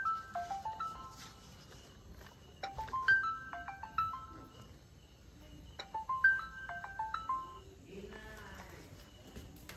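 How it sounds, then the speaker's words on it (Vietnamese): A mobile phone ringtone plays a repeated descending electronic melody in three bursts, fairly faint against low background rustle and a quiet voice near the end. "em có điện thoại bác chờ xíu"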